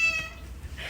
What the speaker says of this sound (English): here is one more listen of that cat meow